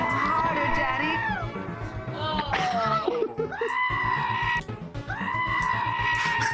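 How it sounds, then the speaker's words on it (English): A goat scream in VRChat, with loud, drawn-out strained bleating cries that rise and fall repeatedly, close and harsh, layered over background game noise and a brief wavering vocal passage. "Oh god, the goat scream."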